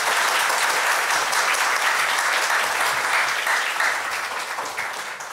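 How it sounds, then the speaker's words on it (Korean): Steady applause from a lecture audience at a church-hosted special talk fills the clip, sustained and dense throughout and gradually easing toward the end. "박수 한번 해주세요."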